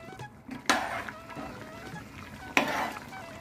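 Chicken gravy being stirred in a pan, a soft continuous scraping with two sharper clinks of the spoon against the metal, close and fairly quiet over a light simmering background.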